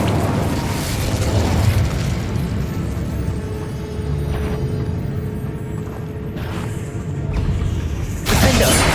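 A fiery Incendio spell blast erupts in Hogwarts Legacy amid a loud, dense barrage of combat noise, followed by a sharp burst near the end.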